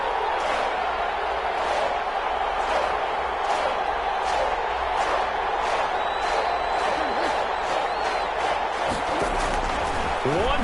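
A football stadium crowd in a PS4 video game roars and urges on the defense as a steady, dense wall of noise, with a commentator talking over it.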